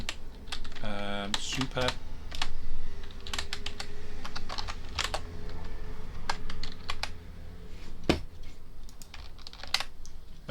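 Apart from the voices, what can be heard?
typing code on a computer keyboard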